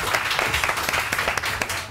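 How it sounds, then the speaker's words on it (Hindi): Audience applause at a live show, a steady patter of many hands clapping with small rhythmic pulses, fairly loud and continuous for about two seconds. "बहुत सारी तालियां इनके लिए।"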